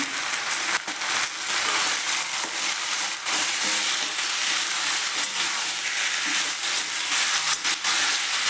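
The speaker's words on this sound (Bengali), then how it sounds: "চিকেনটা ভেজে নিচ্ছি।" Chicken fries loudly in oil with a dense, continuous sizzle and occasional clacks of a utensil against the pan.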